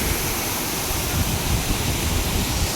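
A steady, loud roar of falling water fills the scene, broadband and constant like a nearby waterfall, at the Five Falls in Courtallam, with no voices.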